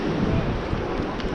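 Strong gusts of Storm Eunice, around 80mph, roar across an open farm, a loud continuous rushing buffet battering the microphone with no talk.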